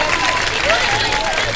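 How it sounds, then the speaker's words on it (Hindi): A studio audience at a televised Ramadan transmission applauds in a dense, steady wash of clapping, loud and close, with a voice faintly audible beneath it. "बहुत सारी तालियां जी।"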